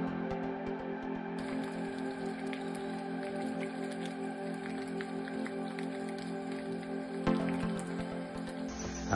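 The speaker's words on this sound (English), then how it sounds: "it's a beautiful rainy day here at the spider base" Steady rain falls outdoors at a net-casting spider breeding site in Cameroon, a constant dense patter with no voices, brightening slightly near the end.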